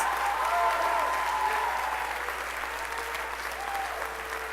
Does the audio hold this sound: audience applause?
yes